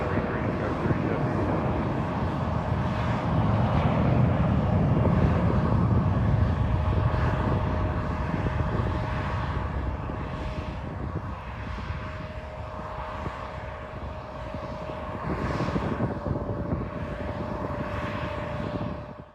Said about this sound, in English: After watching some planes depart,